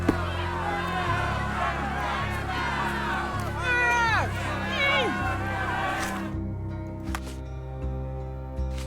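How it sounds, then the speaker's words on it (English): A crowd mills at a refugee camp entrance in a Sherlock Holmes video game, with a continuous babble of voices, shouts and cries under a low musical drone that drops away near the end. "A crowd has gathered at the entrance of the refugee camp."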